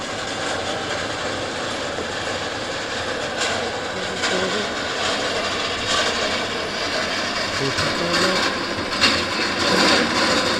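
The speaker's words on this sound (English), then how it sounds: "Running them engines up, but no movement." Jet aircraft engines run up on the ground at Southend Airport, a steady, broad, roaring rumble that holds throughout at moderate distance, without pause.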